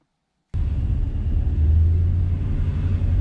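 Ford Mustang fitted with a Paxton supercharger, engine starting abruptly and then settling into a steady, loud idle rumble with a low droning hum, close up and with no talking over it.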